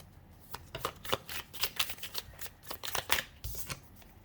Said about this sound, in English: Cards are getting all fumbly here.